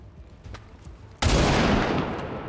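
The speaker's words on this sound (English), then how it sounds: "Now I'll take the shot." A soldier's single shot in the video game XCOM 2 lands as a sudden, loud burst of gunfire that rings on and fades slowly, after a quiet stretch of faint background sound.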